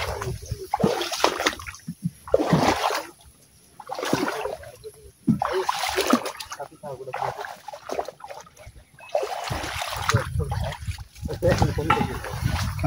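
People step off a boat and wade through water in a dense jungle, with bursts of splashing and sloshing from their steps under intermittent talking.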